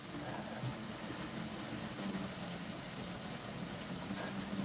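Steady low mechanical rumble of an idling fire truck engine with a constant pump drone as it fills a swimming pool, fairly loud and continuous, no voices.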